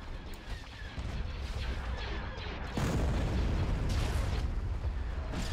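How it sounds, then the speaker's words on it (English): Hypervelocity cannon fire in an Imperial Civil War space battle game, heavy booming blasts over a dense mechanical rumble that grows louder partway through, with no talk. "Hypervelocity cannon firing."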